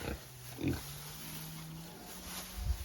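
Three pigs in a small pen on an off-grid homestead give soft, low grunts, a few short snorts and a faint drawn-out grunt, heard fairly close at a low level.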